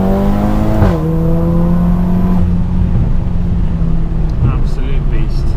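A 600 bhp VW Golf R accelerates hard up through the gears, its engine note climbing steadily before dropping at a shift, loud and close from inside the cabin, with brief chatter from occupants near the end.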